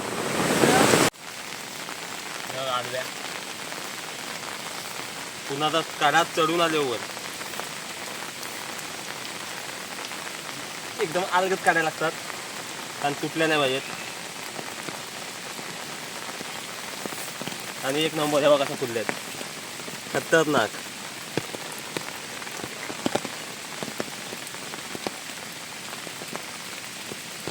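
Steady rain patters on surfaces outdoors during an early-morning mushroom hunt in the Konkan countryside, a continuous even hiss throughout, while people talk intermittently over it.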